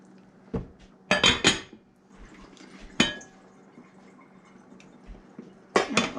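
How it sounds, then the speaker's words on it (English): A utensil stirs beef bourguignon sauce in a pot, giving a few sharp metallic clinks and scrapes in irregular bursts with a soft bubbling simmer between them. "Stir it up again."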